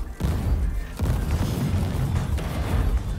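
A nuke detonates in the mech shooter WR Frontiers: a deep booming blast followed by more rumbling explosions, loud and continuous throughout with no talk over it.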